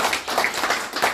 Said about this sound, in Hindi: एक बार फिर जोरदार तालियां आप लोगों के लिए।